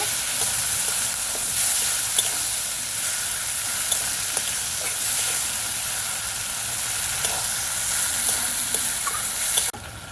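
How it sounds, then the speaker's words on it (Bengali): Spice masala for a bata fish curry with potato and eggplant fries in hot oil while being stirred, a loud, even sizzling hiss with occasional faint spatula taps, no voices, ending abruptly. "ভালো করে মশলাটা কষিয়ে নেব"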